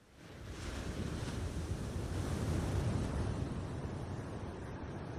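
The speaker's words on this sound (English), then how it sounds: "As an input source, I'm using ocean waves." Steady roar of ocean waves washing onto shore, a dense continuous rush that swells up at the start and holds loud and even throughout, no voices.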